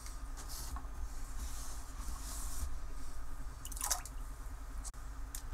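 Carrots drop into a pot of cold water with soft plops and a small splash, quiet and close, over a faint background hum.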